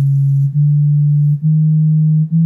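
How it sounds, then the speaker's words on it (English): A series of pure, steady low calibration test tones from KRK GoAux studio monitor speakers plays loudly, each held for about a second with brief gaps between them. "The speakers will produce a series of 25 tones then repeat."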